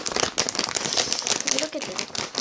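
Crinkly plastic crackles and rustles as someone works at tearing open a bag of Poca Chip roasted seaweed potato chips, a busy close-up stream of crumpling with a voice speaking over it.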